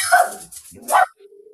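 A startled dog lets out two sharp, close barks in quick succession, followed by a brief faint whine.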